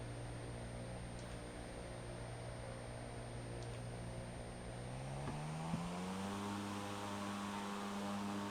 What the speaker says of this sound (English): I can see a pickup helo approaching hilltop to your west